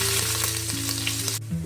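Ginger garlic paste fries in oil with fenugreek seeds, giving a loud, steady, close sizzle that cuts off abruptly near the end.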